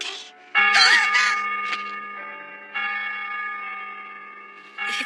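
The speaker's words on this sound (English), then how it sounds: "It's the evening chimes." Evening chimes ring out in bright, sustained bell tones, several strikes spaced a couple of seconds apart, each decaying slowly into the next, clear and fairly close with no talking.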